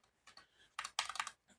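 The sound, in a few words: typing on a computer keyboard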